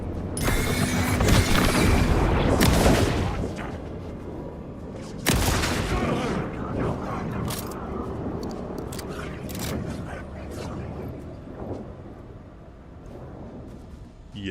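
Flashbang grenades go off in the video game Alan Wake 2, a couple of sharp, loud blasts with crackling aftermath, followed by quieter clicks and scattered impacts.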